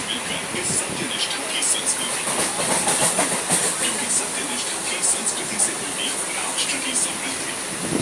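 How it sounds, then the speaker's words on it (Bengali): The Shalimar–Puri Dhauli Express running at speed, heard from near an open door: a steady, loud rumble and rushing wind with rhythmic rail clatter and high metallic hiss throughout. "ট্রেনটা ভালোই স্পিডে যাচ্ছে"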